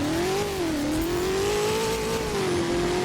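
A sports car engine in the game Driving Empire revs steadily at high pitch, its tone rising and falling slightly in a continuous, loud synthetic drone.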